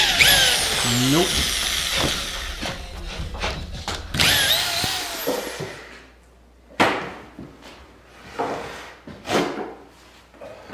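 Power drill driving long screws into a wooden wall, several short bursts of whirring with clattering handling noises between them, close by, and people talking at moments.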